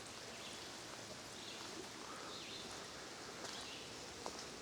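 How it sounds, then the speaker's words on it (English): Steady rain falling outdoors along a hiking trail near a footbridge, a continuous broadband hiss with faint patter and rustle throughout, fairly quiet and without speech. "I can hear the rain coming down here"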